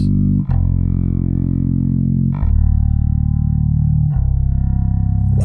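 Warwick signature bass guitar with a swamp ash body played in its low register, three long sustained, growling low notes with distortion-like buzz, each plucked and held about two seconds, loud and alone.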